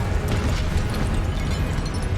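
Incendio fire spell cast in the Hogwarts Legacy video game on PS5, heard as a loud, steady, rumbling blaze with dense crackling texture that roars continuously for about two seconds, close up, with no voices over it.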